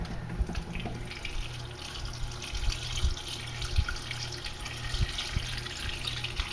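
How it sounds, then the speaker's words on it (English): Water runs steadily from a tap into a pot, a continuous splashing hiss with small clinks, close by, no talking. "Cover it with water."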